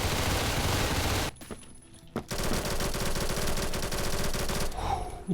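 A machine pistol in the Phantom Forces video game fires loud, rapid bursts, a rattling stream that stops briefly for a near-silent pause before another long burst resumes close and steady.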